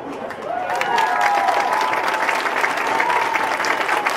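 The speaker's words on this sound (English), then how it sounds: "let's give these men one last round of applause" A homecoming football crowd gives a round of applause for former coaches, the clapping swelling after a quiet start and holding dense and even to the end.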